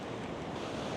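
Sea surf crashes steadily against the rocky coast at Ribeira Brava, Madeira, a dense, continuous roar mixed with wind buffeting the microphone, with no voices.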